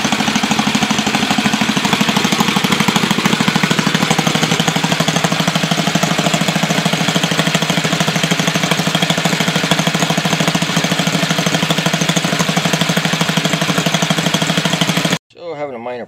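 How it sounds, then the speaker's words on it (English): Two small single-cylinder engines on a two-cylinder chained engine setup run steadily at idle, a loud, dense, continuous knocking drone that holds for about fifteen seconds before cutting off abruptly. "So I got the two motors running separate to warm them up so they'll be easier to start."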